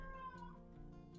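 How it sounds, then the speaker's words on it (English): A cat meows outside, wanting to be let in: a single short, faint, slightly drawn-out meow, heard alone over a quiet indoor background. "Please excuse my cat, he's desperate to come in"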